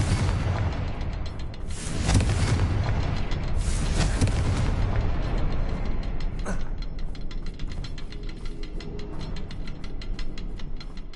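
A Confringo fire spell from the video game Hogwarts Legacy goes off in two loud, booming bursts a couple of seconds apart, then a sharper crack. A dense, rumbling game soundscape fills the gaps between the blasts.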